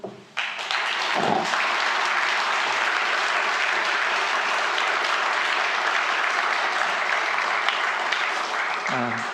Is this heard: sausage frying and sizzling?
no